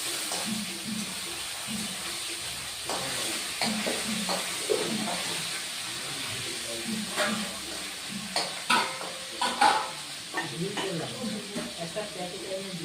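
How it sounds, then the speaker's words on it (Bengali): Fish sizzles and crackles steadily in a hot pan, with occasional stirring and scraping of pots, close and clear beneath intermittent talk. "মাছ ভাজতেছি"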